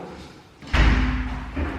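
A door in an empty apartment is shut with a single loud thud after a quiet moment, followed by a lingering low rumble and a faint second knock.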